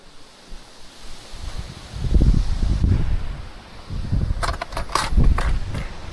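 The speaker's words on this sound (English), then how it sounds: "Pretty windy today." Wind gusts buffet the microphone in low, rumbling bursts that swell and fade, with some brief metallic clinks near the end.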